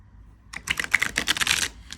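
A brief, crisp flurry of rapid papery clicks and flutters as a deck of oracle cards is shuffled close by.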